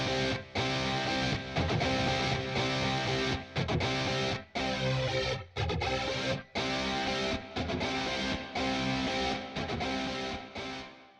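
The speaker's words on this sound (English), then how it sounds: "we added a Stomp box that allows you to choose from 30 different effect combinations" Heavily distorted electric guitar through a stomp box plays chords with layered effects, loud and continuous with brief rhythmic breaks between strums.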